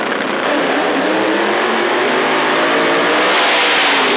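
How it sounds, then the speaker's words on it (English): A Chevrolet Nova drag car launches down a drag strip, its engine roaring loud and steady and rising in intensity as it accelerates away, with no voices. "Devin takes off, the Nova gets a little loose, and Devin's going to the finals"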